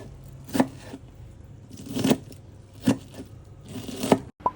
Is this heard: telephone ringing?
no